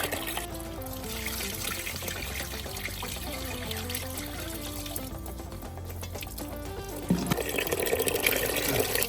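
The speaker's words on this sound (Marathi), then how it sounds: "मका चांगले असे चोळून धुवायची अशी चमकली पाहिजे" Maize kernels are rubbed and washed by hand in water, giving continuous sloshing, trickling and swishing that grows louder and busier toward the end.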